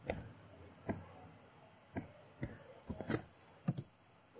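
Computer keyboard keys typed to enter a compile command in MATLAB, a sparse run of soft, quiet clicks and taps in small irregular bursts, close by with no talking.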